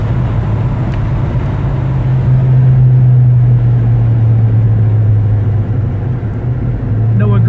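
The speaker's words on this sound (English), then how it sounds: "Feels nice and tight going down the road." A 1969 Dodge Charger 500 Daytona cruising down the road, heard from inside as a steady, loud low engine drone with constant road rumble and no breaks.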